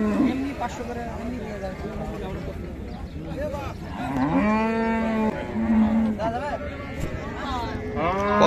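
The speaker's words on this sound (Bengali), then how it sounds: "8 দাঁত বয়সের গাভী এটি।" At a busy Raniganj cattle market in Dinajpur, an eight-tooth Friesian cow moos several times in long, drawn-out calls while people talk nearby and crowd chatter fills the background.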